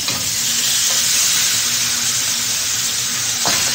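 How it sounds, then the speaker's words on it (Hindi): Meat fries in a little oil in a pan over low heat, giving a steady, close, loud sizzle and hiss, with a couple of brief stirring scrapes and no talking. "हल्की आंच पे इस गोश्त को 4 से 5 मिनट फ्राई करना है"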